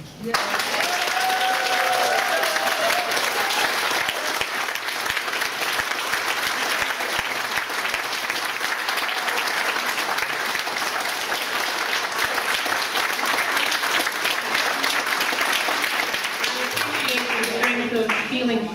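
An audience at a panel meeting applauds loudly and continuously, a dense sustained clapping that fills the whole stretch before fading slightly at the end.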